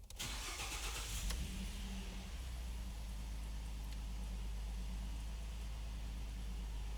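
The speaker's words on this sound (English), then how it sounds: "then start the engine, and it will automatically continue" A car engine cranks and catches within about a second, then settles into a steady low idle that continues to the end.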